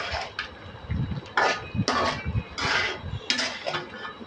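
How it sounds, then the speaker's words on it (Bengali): Lentils with onion, garlic, chili powder, bay leaves, cardamom, cloves and peppercorns are stirred in a cooking pot, giving repeated close scraping and clinking knocks of a spoon against the metal in an uneven rhythm. "এখন এগুলো নেড়ে চেড়ে নিচ্ছি"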